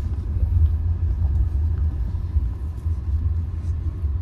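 Low, steady road rumble from inside a 2024 Tata Nexon Creative + S as it drives over a speed breaker, with a few soft thumps from the suspension and a muted engine hum, no talking.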